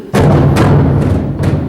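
A group of taiko drums strikes together in a rehearsal, four heavy booming hits in quick succession, loud and close, each leaving a rumbling resonance.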